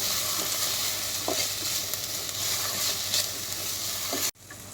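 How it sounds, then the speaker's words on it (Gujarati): Tomatoes sauté in a hot pan for a chaat filling, a continuous sizzle with occasional scrapes of a spoon stirring, steady and close, cutting off abruptly near the end. "થોડાક ટમેટા સોફ્ટ થાય જ્યાં સુધી આમ સાતળવાનું છે"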